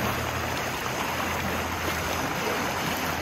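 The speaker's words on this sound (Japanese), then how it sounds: "船が通ると波が出てくるんだね。" On a lake near Kuzuryu Shrine, waves stirred up by a passing boat wash against the shore. The sound is a steady, fairly loud rushing that carries on for several seconds without any voices.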